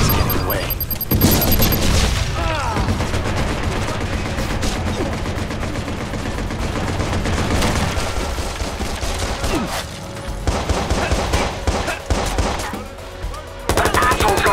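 Gunfire in the Watch Dogs video game: sustained loud bursts of automatic fire with booming single shots, dense and close, briefly thinning in spots before resuming, with occasional voices underneath.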